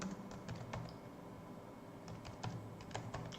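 Steady typing on a computer keyboard while entering code, a quiet, close run of fast irregular key clicks with occasional firmer taps and no voices.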